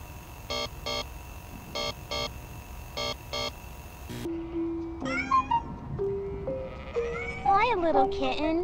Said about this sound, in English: Little kitten, where is your family?